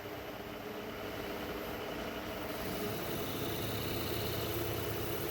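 A wood lathe spinning a camphor laurel bowl gives a steady mechanical hum, rising slightly in pitch and level partway through as it speeds up to about 800 rpm, continuous and close.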